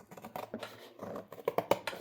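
Old scissors cutting along a piece of material for a recycling craft, a quiet run of close, crisp snips and scratchy crunches that bunches into sharper cuts near the end.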